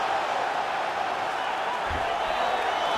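Video game arena crowd in EA Sports UFC 5 cheering during a Khabib Nurmagomedov bout, a steady broad roar of noise held at even loudness throughout, with no voices standing out.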